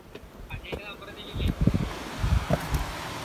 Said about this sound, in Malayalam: ഐ നല്ല കാറ്റ്